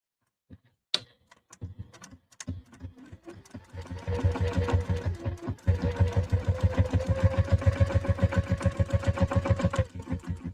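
Sewing machine top stitching a fabric pocket: a few isolated clicks and short bursts, then a steady, close, rapid needle chatter running continuously for several seconds before stopping abruptly.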